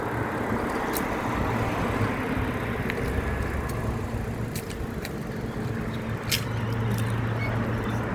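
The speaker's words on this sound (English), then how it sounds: "this is a pretty major road in Wollongong" Steady traffic rumble on a major road in Wollongong, with cars and trucks passing continuously at moderate distance and a few brief sharper hisses of tyres, no talk.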